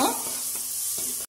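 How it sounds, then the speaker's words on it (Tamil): Bay leaf, onion and whole chilies sizzle in hot oil in a pan, a steady close frying hiss with faint stirring scrapes, ending in a brief drop-out. "பிரியாணி இலை, வெங்காயம், மிளகாய் முழுசா போட்டுக்கலாம். இப்ப இதெல்லாம் ஒன்னு சேர நல்லா வணக்கிக்கும்."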